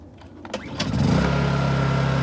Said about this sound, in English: I'll start the Honda generator.